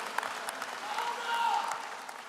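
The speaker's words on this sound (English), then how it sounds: "let's give them a round of applause and some thanks." Scattered applause from a crowd at a college commencement ceremony comes through faintly, a soft patter of clapping with murmuring voices underneath.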